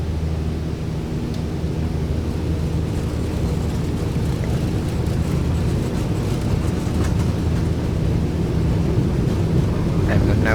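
A Cessna 152 engine held at full throttle during the take-off run at Redcliffe, a constant loud cabin drone with wind noise and a steady rumble throughout.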